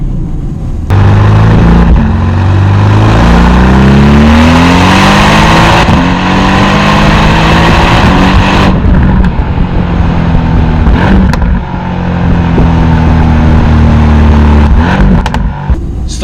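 A Mercedes-Benz AMG GT-R Pro engine revs hard and accelerates up through the gears, loud and close, its roaring pitch climbing repeatedly with brief dips at each shift.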